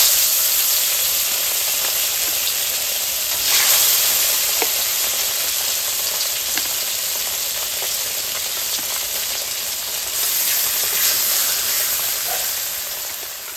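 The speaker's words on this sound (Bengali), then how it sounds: "যেহেতু কড়াইটা গোল, এই জন্য 2 ভাগ করে মাছগুলো আমি ভেজে নিচ্ছি।" Fish fry in hot oil in a round wok, a loud, continuous sizzle and hiss with small crackles and brief surges throughout.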